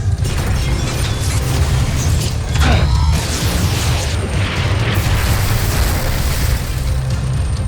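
Rockets fired and blowing up during a battle in the Voltes V anime series, a dense continuous rumble of booms and blasts with a sharper burst near the middle, loud and sustained throughout with no talk.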